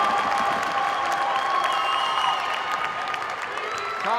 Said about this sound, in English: Crowd going a little bit more crazy as the Cardinals inch towards 15